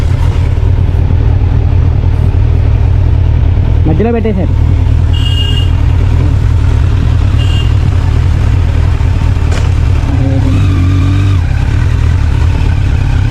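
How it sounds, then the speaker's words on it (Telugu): A Kawasaki Z900 motorcycle engine rumbles steadily after a cold start, loud and close, while a person talks over it and brief tonal sounds pass by. "సో బైక్ అయితే ఇందాక కోల్డ్ స్టార్ట్ అయిపోయింది."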